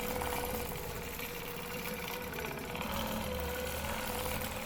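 A sewing machine runs steadily, stitching a quilting stencil design with a continuous motor whir and rapid needle chatter at an even pace, with no talking.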